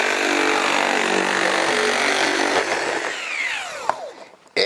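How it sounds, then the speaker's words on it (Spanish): Hand-held shears slicing narrow strips from thin sheet metal, a steady loud metallic cutting noise over several seconds that thins out near the end, with no voices. "el segundo método es utilizar nuestra cizalla"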